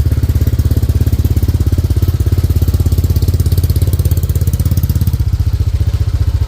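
A Honda Click 125 scooter, built up to 160cc, idles steadily while warming up, its loud, close engine keeping an even, rapid putter throughout with no voices.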